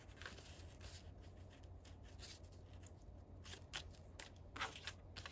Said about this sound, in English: So I'm gonna rip this.